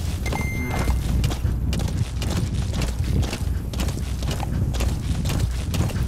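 Rapid clip-clop of horse hooves trotting close by in a video game, a continuous rhythmic patter with game ambience and no talking.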